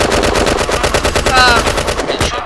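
Rapid automatic gunfire from the video game Red Crucible Firestorm, loud and continuous bursts over about two seconds, with a brief ringing metallic tone partway through and the firing dying off at the end.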